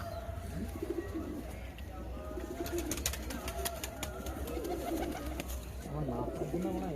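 Giribaz pigeons cooing in a home loft, soft low coos repeating steadily through the whole stretch amid faint chirps and background noise.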